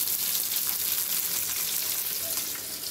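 Fish frying in a pan gives a steady, close, bright sizzle with faint crackles throughout, and no talking over it.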